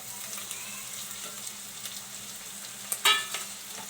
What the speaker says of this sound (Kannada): ಮಸಾಲೆನ ಚೆನ್ನಾಗಿ ಫ್ರೈ ಮಾಡಿ.